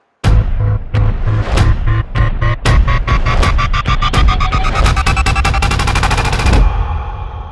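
Blender running loudly and continuously, with rapid pulsing, throbbing bursts that speed into a dense stutter before stopping abruptly near the end.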